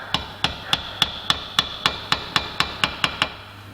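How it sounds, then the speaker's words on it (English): Hammer tapping an easy out into a broken stud on a bicycle, a dozen crisp metallic knocks at a steady quick rhythm, close and clear with no talk. "as we twist it, we just apply a little bit of pressure with a hammer."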